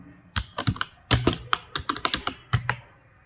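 Computer keyboard keys typed in quick irregular bursts while entering column headings into an Excel spreadsheet, close and crisp, with no voices.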